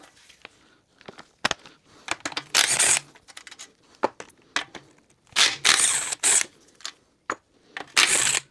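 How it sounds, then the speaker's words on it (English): Ratchet clicks and short metallic bursts from wrenching bolts off a John Deere Z355E riding mower, in loud intermittent clusters with gaps of softer handling noise, close up and without talk. "Let's take the bolts off."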